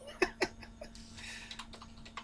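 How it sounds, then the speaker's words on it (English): Fingers tap on a computer keyboard, close and quiet: a few distinct sharp keystrokes, then lighter irregular clicks. "I'm typing hello again in the window, the new window I just opened in YouTube."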